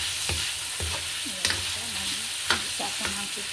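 Pechay sautés in a pan with a close, steady sizzle, broken by repeated scraping and tapping strokes of a spatula stirring the greens at an uneven pace.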